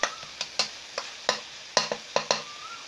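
Metal spatula scraping and clanking in a wok while crispy fried catfish is tossed with chilies and kaffir lime leaves, a series of sharp, spaced strokes over a faint sizzle.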